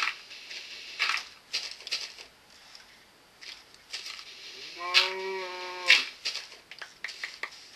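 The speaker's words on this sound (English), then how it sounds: "Please be quiet, cow." Two distinct cow moos from Minecraft stand out clearly over a quiet background of scattered game noises, each low, drawn-out call lasting about a second.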